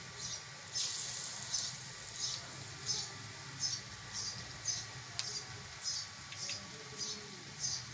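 Besan-coated arvi slices frying in a pan, a soft continuous sizzle with regular hissing pulses about once a second, faint and steady with no talking.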